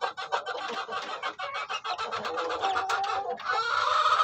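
Three-week-old Shamo chicks, a Shamo Jotaku and Shamo Asil cross, cluck and chirp in quick, close repeated bursts with no pauses, fairly loud and with no voices over them.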